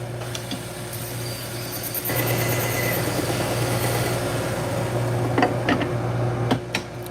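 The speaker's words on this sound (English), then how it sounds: "This machine is a sewing machine motor. It's a Chinese-made sewing machine motor." Chinese-made sewing machine motor driving a knife sharpening machine, running as a steady low electric hum with a mechanical whir that swells louder after two seconds, with a few brief scraping clicks near the end.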